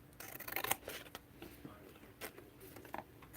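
Scissors snip through paper while cutting pieces for an antiqued junk journal cover, a few quiet irregular cuts with soft rustling close by.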